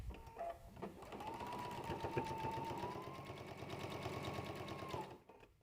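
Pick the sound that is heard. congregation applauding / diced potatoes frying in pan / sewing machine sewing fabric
sewing machine sewing fabric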